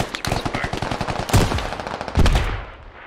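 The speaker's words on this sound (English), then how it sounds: "you can start laying out suppressive fire" Suppressive machine gun fire in the SquadOps military shooter game, delivered as rapid bursts of sharp automatic shots and then two heavier booming reports, loud and close, with no talking.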